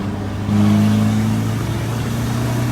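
A modified car fitted with a tuning box, its engine held with the accelerator floored, a steady loud droning roar that jumps up in pitch and level after half a second and holds there, with no talk.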